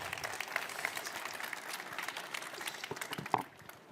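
Audience applause at the close of a hacking-lab conference presentation on physical intrusion, a steady patter of many hands clapping at moderate level for about three and a half seconds before tapering off abruptly.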